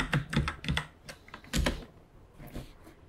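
Rapid keystrokes on a computer keyboard while renaming a trigger in Adobe Character Animator, clicking in quick irregular bursts that pause briefly and then resume with a few more taps, close and alone.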